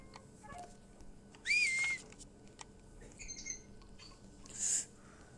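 A few short, high whistles pop up in a quiet scene in a Roblox game, one rising tone followed by a couple of brief chirpy notes, separated by pauses.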